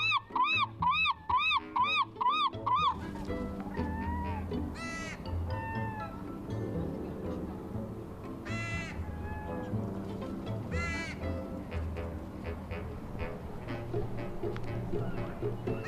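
Crows gather around French fries on the ground and let out a rapid burst of loud, harsh caws up close. Scattered, quieter calls and caws follow over a busy outdoor background hum.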